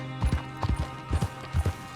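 Horse hooves clip-clop steadily in Red Dead Redemption 2, a close, even four-beat walking rhythm of dull thuds repeating throughout with no talking.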